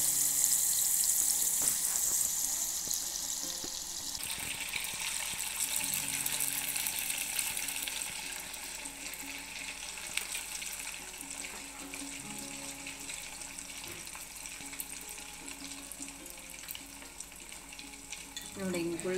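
Ghee bubbling and sizzling steadily in a pan on the stove as butter is clarified at home, a continuous frying hiss throughout with no talk over it.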